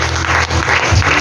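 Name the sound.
congregation applauding in church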